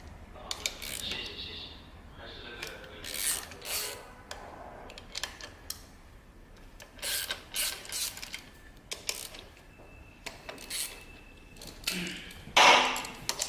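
Ratchet clicking in short bursts while backing out the three bolts that hold the stock exhaust on a Harley-Davidson Dyna, ahead of fitting a Danmoto Highwayman full exhaust. The clatter is close and comes in uneven spurts between quieter handling noise.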